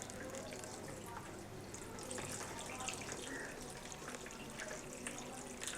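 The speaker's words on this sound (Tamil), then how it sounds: "அந்த தண்ணி கேனுக்குள்ள கிட்டத்தட்ட அஞ்சு லிட்டர் தண்ணியை நம்ம ஊற்றிருக்கோம்" Water pouring steadily into a water can packed with sand, a continuous splashing, trickling flow heard close and fairly quiet throughout.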